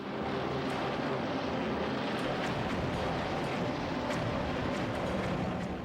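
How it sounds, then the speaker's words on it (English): Several Dauntless dive bombers drone overhead in a steady, dense roar of piston engines and propellers, loud and continuous with no break and no voices. "A new wave of dauntless bombers from the Enterprise and the Hornet launched their bombs from high altitude"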